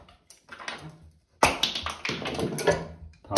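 A scraper pries plastic bolt caps off the base of a toilet, producing sharp clicks and taps followed by a busier run of scraping and knocking, close by with no talking.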